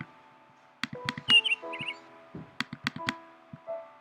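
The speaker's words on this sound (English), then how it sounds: "Bird, stop chirping." Video game bird chirping in sharp, clicky bursts, with a few high whistled trills and a short cluster of chirps midway, fairly close and clear against a quiet background with no speech.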